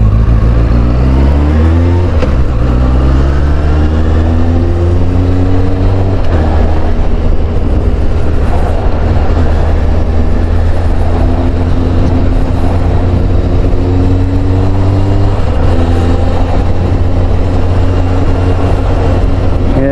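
A restored Suzuki GSX600F motorcycle engine runs steadily under load while riding, loud and close, with the pitch climbing and dropping through gear changes over a constant rush of wind.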